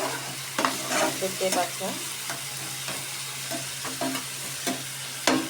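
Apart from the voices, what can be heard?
tomato, ginger and green chili paste sizzling in the pan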